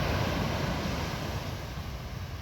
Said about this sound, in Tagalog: ayan may alon